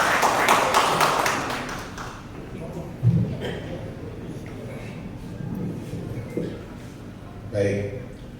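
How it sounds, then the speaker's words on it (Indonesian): Audience applause at a Vinfast car dealership event in Surabaya, a burst of clapping at the start that fades after about two seconds, followed by scattered taps and room noise. "Boleh minta tepuk tangannya."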